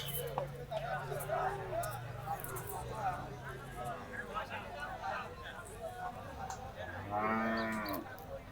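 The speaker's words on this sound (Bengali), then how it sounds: "মালিগ্রাম হাটে বেশ সুন্দর একটি লাল কালারের গরু" Cattle moo at Maligram cattle market in Bhanga, Faridpur, with long, low calls heard near and far over a busy background of crowd babble, and one loud close moo near the end.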